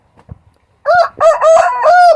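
A rooster kept with three hens crows loudly and close by, one long drawn-out cock-a-doodle-doo following a few soft clucks, with no talking.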